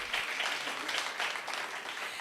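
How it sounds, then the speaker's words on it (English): Conference audience at an emergency medicine gathering applauds, a dense, even wash of clapping from many hands, moderately distant and steady throughout. "can we give him another round of applause?"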